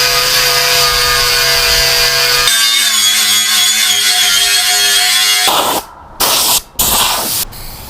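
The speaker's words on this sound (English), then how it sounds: "So I got the grinder with the wire wheel on it, and we're just gonna go at it and get this done here." A grinder fitted with a wire wheel strips old paint from the metal front grill of a 1973 Scout II. It makes a loud, steady whirring scrape that shifts in pitch as the load changes and then cuts out in short bursts near the end.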